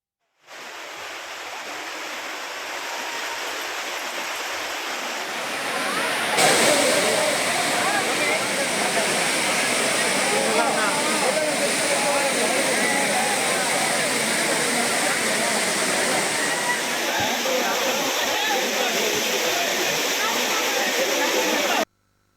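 Courtallam waterfalls in Tenkasi district, Tamil Nadu, pour down with a loud, steady roar of rushing water that holds unbroken throughout, swelling slightly after the opening seconds, with no clear talk over it.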